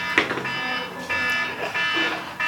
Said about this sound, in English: Somebody's alarm's going off.